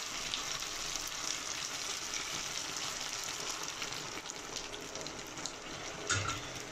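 Fettuccine sauce sizzles and hisses steadily in a pan after water is added, a dense, even frying crackle close up that stays constant, with no talking.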